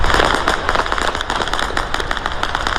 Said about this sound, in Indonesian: rentetan senjata dan ledakan terdengar di berbagai titik kota Erbil